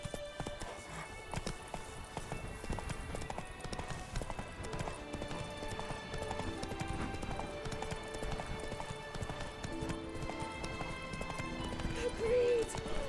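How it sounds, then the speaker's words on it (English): A horse gallops in The Witcher 3: Blood and Wine, its steady clip-clop hoofbeats running throughout under game music, with voices talking over it. "Run, Roach."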